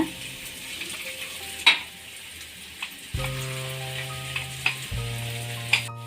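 Ground masala spice paste tipped into a hot frying pan for a drumstick (nuggekayi) fry, sizzling steadily with sharp spoon clinks and a couple of louder bursts as more goes in, close and without talk.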